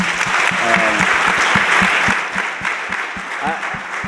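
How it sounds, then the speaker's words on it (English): Audience at a computer science education conference applauding, a dense round of clapping with sharp nearby hand claps standing out over the crowd, and brief voices cutting in partway through. "Give her a round of applause."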